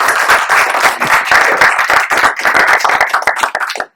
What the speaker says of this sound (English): Maybe a round of applause for them as well.